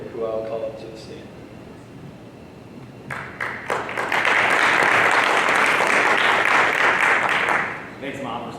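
An audience at a local candidates' forum bursts into applause as a Democratic Party candidate is called to the stand. The clapping swells quickly, stays loud and dense for several seconds, then fades, with voices at the start and end.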